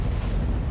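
North Korean artillery shells fire toward South Korean territory near disputed Yeonpyeong Island in a deep, rumbling boom that fills the short moment, heavy and dull, with no voices over it.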